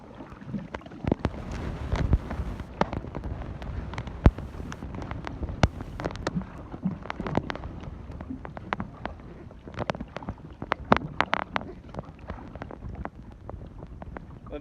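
A small boat is paddled hard against a river current, repeated splashing paddle strokes and knocks over wind buffeting the microphone, close and uneven in rhythm.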